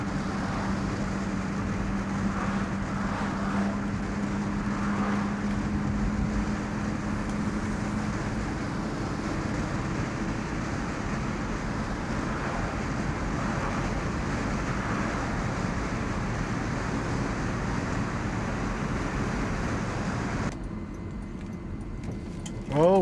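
A 1967 Ford Mustang fitted with Holley Sniper fuel injection drives along, giving a continuous low engine drone mixed with road and wind rumble that holds steady, then thins out briefly near the end.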